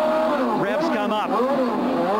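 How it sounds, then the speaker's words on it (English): A 1996 CART Indy-style race car's engine revs up and down during a pit stop at Laguna Seca, the loud high whine rising and falling in sweeps beneath a commentator's voice. "Revs come up."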